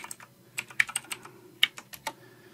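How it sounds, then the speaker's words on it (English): A password is typed on a computer keyboard at a Windows Server machine, a quick uneven run of about a dozen crisp key clicks, close and fairly quiet, with no voices. "And now I'm going to type the new password."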